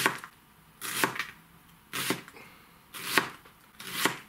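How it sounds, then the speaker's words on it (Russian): A knife chops onion on a board in a home kitchen, with five separate sharp chopping strikes about a second apart, close and fairly quiet, and no talk. "Значит, режем лук."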